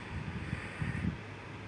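Outdoor wind buffets the microphone during a strut replacement on a 1999 Chevy Tracker, a low rumbling gusty roar that swells and fades in faint, uneven bursts with no talk.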